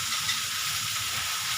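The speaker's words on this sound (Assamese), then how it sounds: "তেলখিনি ভাজি দিম, এনেকৈ ভাজি দিম" Food frying in a pan of oil for a home-cooked meal, a continuous close sizzle and hiss with faint stirring underneath, no voices.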